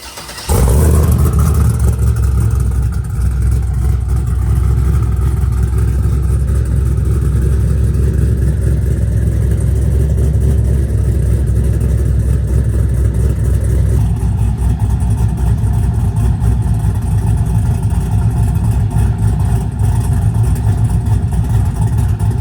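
A loud cammed 6.0 V8 Chevrolet Silverado truck engine fires up and runs continuously close by, a heavy, rough rumble that holds steady for the whole stretch.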